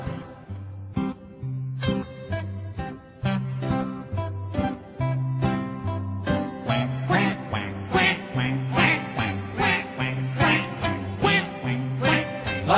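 Repeated quacks ring out in rhythm throughout a bouncy Brazilian children's song about a duck, layered over a steady bass and percussion accompaniment.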